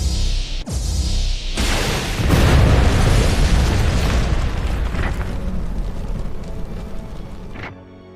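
A massive cannon blast from an animated Transformers film erupts into a long, roaring rumble that rolls on for several seconds before cutting off, loud and close.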